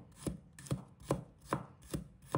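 A knife slicing garlic on a cutting board, six evenly spaced crisp chops with a woody thud each, close and quiet, in a steady rhythm.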